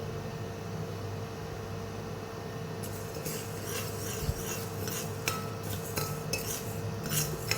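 Horse gram dry-roasting in a hot iron kadai, a steady dry rasping hiss with scraping and light rattling of stirred grains growing busier partway through.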